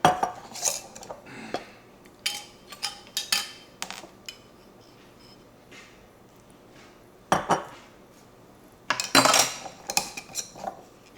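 German chocolate cake batter mixed in a bowl, with a utensil clinking and scraping against the sides in irregular bursts and short quiet pauses between strokes.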